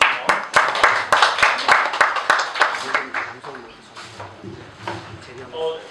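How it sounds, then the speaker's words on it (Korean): Audience at a public hearing clapping in a steady rhythmic burst of sharp claps for about three seconds, then tapering into scattered claps and murmuring room noise. "박수 한번 해주시며"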